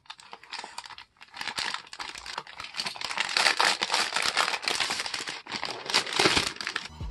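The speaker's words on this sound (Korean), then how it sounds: "일단 이렇게 택배 포장을 뜯으니까" Parcel delivery packaging is torn open close by with steady crinkling, rustling and ripping of plastic and paper, continuous and fairly quiet, with no talking.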